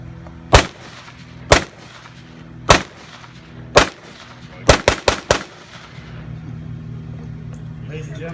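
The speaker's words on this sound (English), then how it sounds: "Now, Johnson will demonstrate firing the weapon for you." An M1 Garand rifle fires in a demonstration: four evenly spaced loud shots, then a quicker burst of four more, each sharp crack ringing out briefly before a quiet murmur of background noise.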